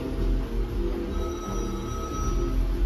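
Telephone item ringing in the video game Mario Party 3, a ringing tone set over busy game music and effects, moderately loud and sustained, with no talking.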